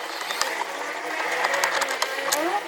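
Power screwdriver fitted with a Torx T30 bit backing a screw out of a door panel on a Nissan Platina or Renault Clio, a steady close whirring drone with faint clicks, running on its own.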